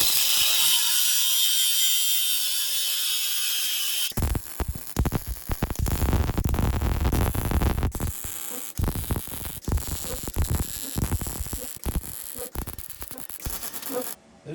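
Plasma torch cutting through expanded metal, guided along a flat bar with the cup edge resting on the bar: a steady hiss, then about ten seconds of loud, close, crackling and sputtering cutting noise with brief drops.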